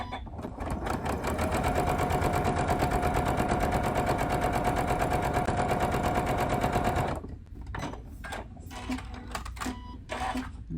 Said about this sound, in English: today I am sewing on the Janome 9450.